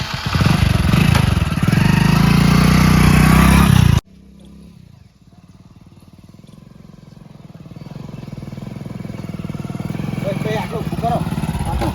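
A motorcycle engine idles and runs steadily nearby, loud at first and then a lower, rising drone, with people talking over it.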